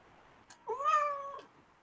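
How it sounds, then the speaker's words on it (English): A single drawn-out cat meow, clear and fairly close, rising then falling over about a second in a quiet room. "Someone's cat is on the prowl."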